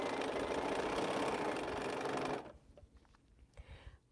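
A sewing machine runs steadily and loudly up close while stitching quilt pieces together, then stops abruptly, leaving quieter handling clicks and faint room sounds.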